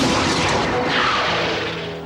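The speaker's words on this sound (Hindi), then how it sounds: "अरे गोली चल जाएगी।" A revolver fires in a Hindi crime TV drama, a loud booming shot with a sharp onset that rings out and decays slowly over about two seconds, heard alone without talk.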